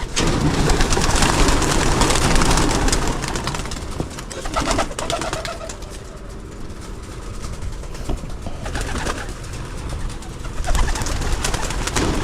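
Pigeons coo and flutter around a pigeon loft, a busy, close bird chorus with a continuous background rush of outdoor noise and no talking.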